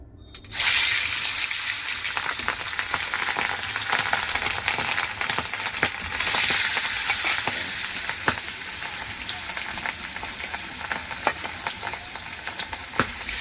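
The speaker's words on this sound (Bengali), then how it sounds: "তেল গরম হয়ে গেছে, সর্ষে তেল দিয়েছি। মাছটাকে ভেজে নেব।" Fish rubbed with salt and turmeric sizzles in hot mustard oil, a dense, steady frying hiss that starts abruptly and runs throughout, broken by scattered clicks and scrapes of a spatula in the pan.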